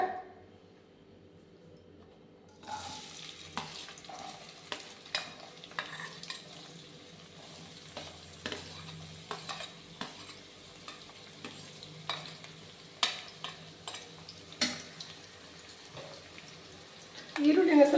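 Onions frying in hot oil in a pan for a Kannada-style methi egg stir-fry, a steady low sizzle with scattered crackles and stirring clinks that grows denser once the onions go in, with a voice speaking at moments.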